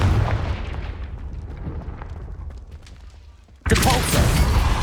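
A Confringo blasting spell goes off in Hogwarts Legacy, a sudden loud burst near the end that cuts in sharply after a stretch of quieter background rumble.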